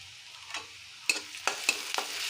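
Chopped onion frying in hot oil in a pan while being stirred for a banana stem dry fry, a steady low sizzle broken by a few sharp scrapes and clinks of the spoon against the pan, close and fairly quiet.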